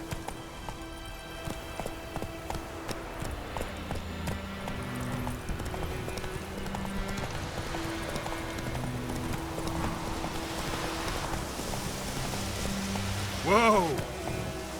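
Geralt's horse Roach clip-clopping along in The Witcher 3 video game, steady close hoofbeats with rain-like ambience and a short rising whinny near the end.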